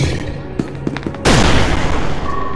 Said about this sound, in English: Throw a grenade, throw!